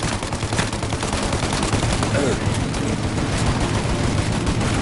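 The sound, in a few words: gunfire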